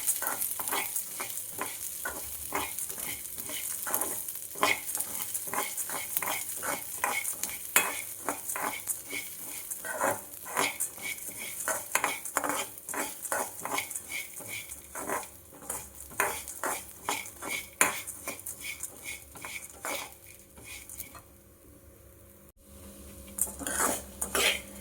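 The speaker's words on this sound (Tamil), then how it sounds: "ஆட் பண்ணிவிட்டு அதை நல்லா வறுத்து எடுத்துக்கணும்" Toor dal, urad dal and horse gram dry-roasting in a pan, stirred continuously with a utensil, producing a steady run of rapid rattling, scraping clicks close and loud, with a brief pause near the end.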